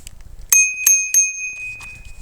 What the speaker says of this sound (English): Got a nice little bell.